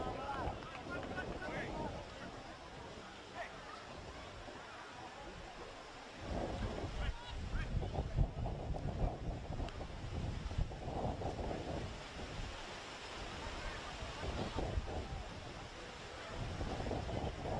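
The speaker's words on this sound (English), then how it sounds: "You can hear it through the effects mic. The wind really picking up." Wind buffets the microphone in heavy, rumbling gusts that swell and ease throughout, with the broad rush of open water behind, at an outdoor soccer match on a peninsula.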